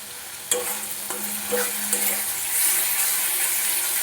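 Spiced ghugni gravy being stir-fried in a pan, a steady sizzle of frying with repeated scraping stirs of a spoon against the pan at roughly half-second intervals, close and continuous with no talk.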